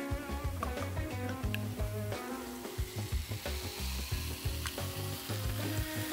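Asahi beer fizzes and crackles as it is poured from a can into a glass, its foam hissing in uneven rhythmic bursts, close and fairly quiet.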